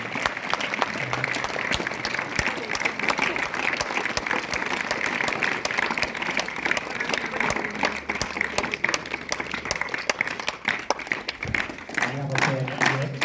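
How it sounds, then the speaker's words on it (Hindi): An audience at a government high school staff and principal felicitation event claps steadily and continuously for over ten seconds, a dense, evenly sustained round of applause filling the hall. "सभी लोग तालियां बजाते हुए स्वागत करते हैं।"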